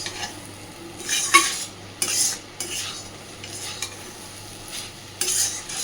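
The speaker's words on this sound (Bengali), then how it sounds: "সবটাকে ভেজে নিয়েছি দেখতেই পাচ্ছেন কড়াই থেকে কিন্তু সুন্দরভাবে ছেড়ে যাচ্ছে" Fish roe frying in oil in a wok and being stirred, with a soft steady sizzle under repeated scraping strokes of a metal spatula against the pan, close and moderately loud, no voices.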